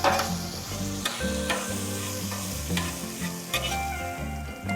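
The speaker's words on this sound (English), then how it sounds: "I'm going to move the mushrooms and onions over. Mix it in with the ground beef." Mushrooms, onions and ground beef sizzle on a flat griddle while being stirred and mixed together, a steady close frying hiss broken by scraping spatula strokes and clinks.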